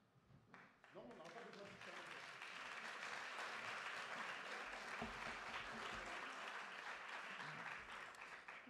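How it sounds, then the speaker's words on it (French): Applause from an audience at a French conference on mobile teams, a dense, sustained wash of many hands clapping that swells within the first second and stays steady to the end, faint and somewhat distant. "Difficile de passer après Frédéric, surtout après des applaudissements comme tout à l'heure"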